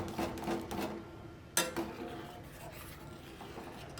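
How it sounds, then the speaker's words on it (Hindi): A spoon stirs semolina upma in a pan over a low flame, giving soft scraping and clinking strokes in an uneven rhythm, with one sharper clank partway through, close and moderately quiet. "चम्मच के मदद से इसे कुछ इस तरह चलाते रहूँगा"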